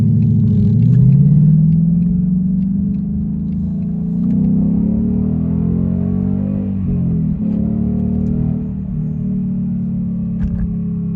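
A Ford Mustang GT engine pulls hard on a highway, a loud sustained rumble whose pitch climbs steadily, dips at a gear change and climbs again, heard from inside the car.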